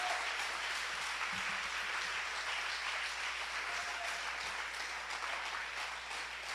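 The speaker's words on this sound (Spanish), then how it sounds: "Dale un fuerte aplauso al Señor, porque Él ya lo ha hecho" Church congregation applauding together during a Spanish-language service on the work of the Holy Spirit, a steady, even clapping wash held at a moderate distance throughout, with no voices over it.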